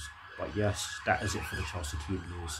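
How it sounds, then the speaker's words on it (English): A siren wails faintly in the distance beneath someone speaking close to the microphone, its rising and falling tone running throughout. "Sorry for the siren in the background."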